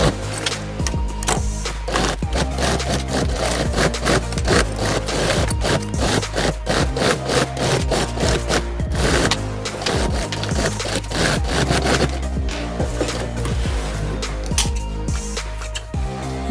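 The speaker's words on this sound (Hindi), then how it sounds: "पूरा सिलाई कर लेंगे।" A sewing machine stitches panels of a travel bag, giving a busy, close run of scraping, rapid rattling bursts that continues steadily with brief pauses, and no one speaks.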